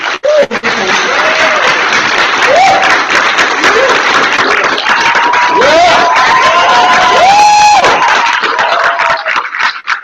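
An event audience in Chicago claps and cheers loudly to welcome Izhak on stage, with sustained applause, whoops and shouted voices rising over the clapping throughout.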